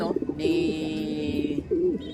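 Pigeons cooing close by, a few soft warbling coos rising and falling over a steady background hum.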